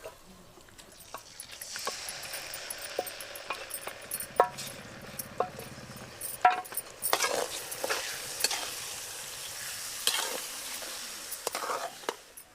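Boiled tamarind stirred into a tempering in a pan for tamarind pulihora, with a spoon scraping and clinking against the metal over a soft background sizzle, growing busier toward the end.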